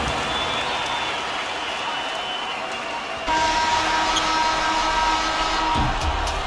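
Home arena crowd cheering a basketball win at a Philippines national team game against Colombia, a dense continuous roar that swells louder midway, with a commentator talking over it.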